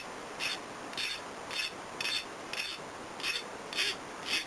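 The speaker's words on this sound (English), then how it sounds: "I'm just going to deburr the ends" A hand file deburrs the cut ends of metal pins for custom wooden knife scales: eight short, evenly spaced rasping strokes, close and crisp, over quiet background.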